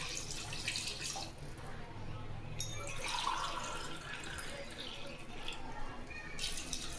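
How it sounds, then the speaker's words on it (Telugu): Water poured into rice in a pot for chicken biryani, a quiet, steady rushing pour with light splashes that briefly eases and then resumes, with no speech. "గ్లాస్కి 2 గ్లాసులు నీళ్లు పోసుకోవాలండి"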